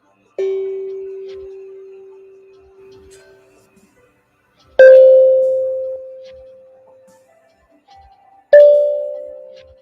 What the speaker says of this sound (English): you're going to ring your bell or chime or whatever you have there 3 times